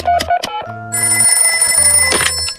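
A cartoon telephone rings in a Chinese-dubbed animated episode: a brief voice first, then a bright, loud electronic ringing that sounds for about a second and a half before cutting off.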